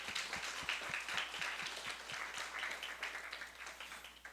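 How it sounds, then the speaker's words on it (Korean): A church congregation at a Sunday service claps in a sustained, fairly distant wash of applause, with a soft low thump pulsing under it in a steady beat. "좀 더 큰 박수로 하나님께 영광을 올려드립시다."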